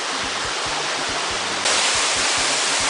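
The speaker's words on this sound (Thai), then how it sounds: "ก็จะเข้ามาถึงตัวน้ำตกที่เห็น อยู่ด้านหลังผมนี้นะครับ" Tad Bong waterfall running full after a night of heavy rain, a steady broadband roar of falling water close by, with a faint low thumping beneath and a sudden jump in brightness partway through.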